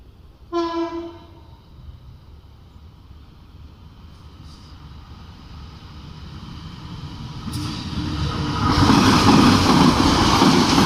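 A train horn blares once near the start, then a locomotive rumbles in and grows steadily louder as it passes close by through Leces station in Indonesia.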